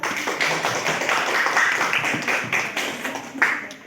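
A group clapping together as applause for a presenting group in a classroom session, a dense, steady patter of many hands held close for a few seconds.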